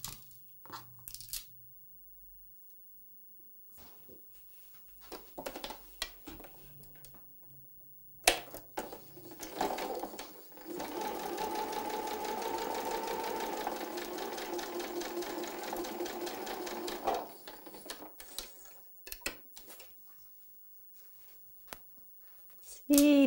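Sewing machine stitching a quilt block, a fast rhythmic whirring hum running for several seconds, framed by quiet handling of fabric and pins and brief speech before and after.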